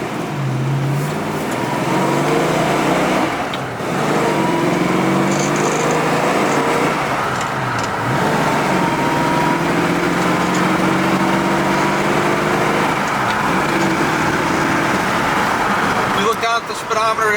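A 1966 Ford Mustang engine revs and pulls steadily on the road as it accelerates through the gears, with rising and falling pitch across each shift and continuous road and wind noise close to the microphone.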